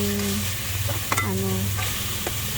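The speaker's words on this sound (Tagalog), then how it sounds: "Igisa lang natin siyang mabuti." Chicken sautés in a pan with onion and garlic for sopas, a close, steady sizzle with a few spoon scrapes and clinks as it is stirred, and no talk.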